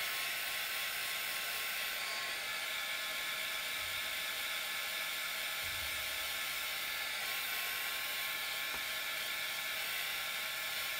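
A heat gun blows hot air over freshly applied acrylic paint on a Halloween tumbler, a steady loud whooshing roar with a high whine that runs unbroken and alone throughout.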